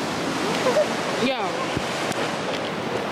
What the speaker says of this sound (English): look at the big waves